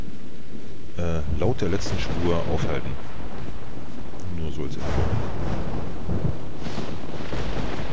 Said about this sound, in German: Lass ich euch mal kurz das Gewitter genießen.